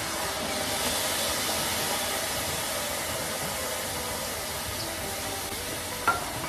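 Khichuri of moong dal and Gobindobhog rice, with dried chilli and ginger, simmers in a pot after hot water goes in. A steady, even hiss and bubbling holds throughout, with one small clink near the end.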